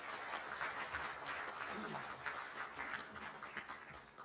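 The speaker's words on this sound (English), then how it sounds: "Please give a huge round of applause to our guest of honor," Audience applauding a guest of honor at an insurance-sector talk, a steady wash of clapping that holds for several seconds at moderate distance with faint voices mixed in.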